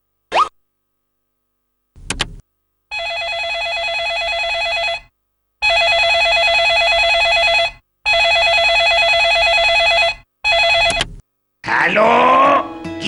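An outgoing phone call rings on the line with a run of long, steady electronic ring tones separated by short gaps, loud and close, and a voice comes in at the end.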